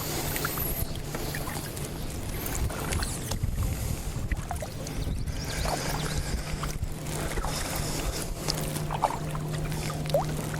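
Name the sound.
boat passing in the distance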